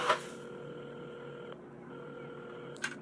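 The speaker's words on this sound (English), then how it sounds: "at the counter, Carmen had started dialing the phone" A telephone is dialed in the video game Assemble with Care, with a few soft, faint button beeps over a quiet background hum, plus a brief clatter at the start and end.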